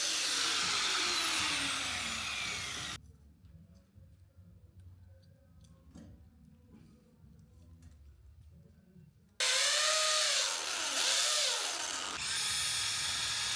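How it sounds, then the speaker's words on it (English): A power drill drives into a studio wall while gallery battens are being fixed, loud grinding at first, then a quieter stretch of faint knocks and clicks before the drill roars back at full speed. "trying to drill these battens into the wall"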